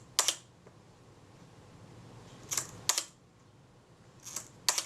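A Kodak Retina type 117 camera shutter fires at a tenth of a second, giving sharp close clicks in pairs: one near the start, two about three-tenths of a second apart midway, and two more at the end, over faint room hiss.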